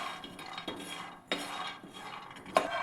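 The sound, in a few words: stirring and roasting grated peanuts in a pan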